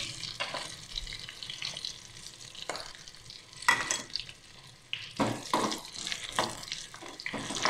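Black pepper and curry leaves frying in a pan for millet pongal, a steady crackling sizzle broken by sharp stirring scrapes and pops, fairly close, with no talk.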